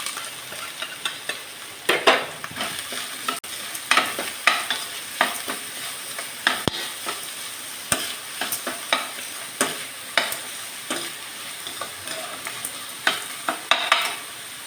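Sliced onions sizzling in hot oil while a spoon scrapes and stirs them in a pan for bonda, steady frying hiss with close, irregular stirring clatters.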